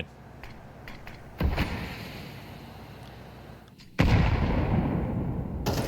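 Grenade explosions in Counter-Strike 2 during a competitive esports match: two sharp, loud blasts a few seconds apart, each leaving a lingering rumbling tail over faint background game noise.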